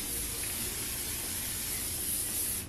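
A steady hairspray can hisses continuously for a few seconds, close and fairly loud, with no talking.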